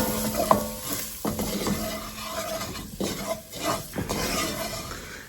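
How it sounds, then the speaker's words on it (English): Vegetables dusted with flour cook in a pan, a soft sizzle broken by several distinct stirring scrapes and clinks of a utensil against the pan, fairly quiet and close. "let that cook for another couple minutes till all that flour is absorbed into our veggies"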